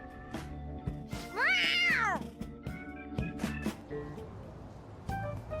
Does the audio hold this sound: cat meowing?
yes